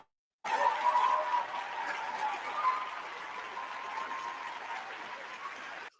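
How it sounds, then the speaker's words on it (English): An audience at a community variety night bursts into applause after a brief silence, a steady, moderately distant round of clapping that holds evenly for several seconds before cutting off. "give Ama another round of applause"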